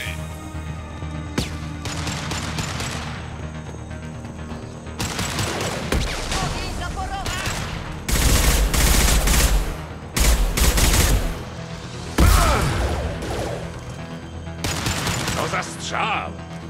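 Rapid bursts of gunfire in Mass Effect Legendary Edition crackle and boom in waves, with dense volleys and brief lulls, over a steady game soundtrack.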